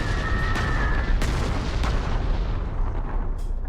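A loud, deep rumbling bombing explosion in the wartime strategy game Panzer Corps, a sustained heavy boom with crackling debris that lasts a few seconds.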